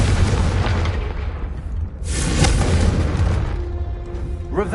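Confringo explosion spell in the Hogwarts Legacy video game on PS5, a loud, booming blast with rumbling low-end that swells, then a second burst, followed by crackling game effects.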